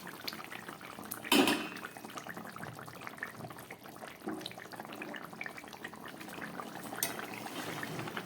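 Rohu fish curry with cauliflower and potatoes simmers in a covered pot over low gas, a steady soft bubbling hiss throughout, with a brief louder clatter near the start and no talking.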